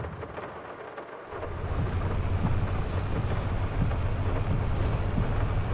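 Steady rain pours in Farming Simulator 22 during a heavy downpour, rising from quieter wind after about a second into a dense, continuous low rumble and hiss that fills the rest of the clip with no talk.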